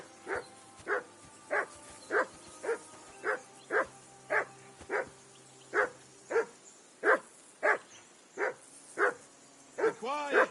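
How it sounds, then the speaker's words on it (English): A dog in the medieval video game Kingdom Come Deliverance 2 barks repeatedly in an even rhythm, about a dozen sharp close barks, ending in a rising whimper. "Be quiet, you flea-bitten hound."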